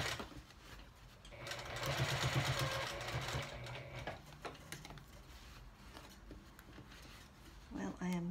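A sewing machine stitches a fabric bowl cozy, running in a close, steady whirring burst that speeds and slows, with softer mechanical clicks and a voice talking over it at times.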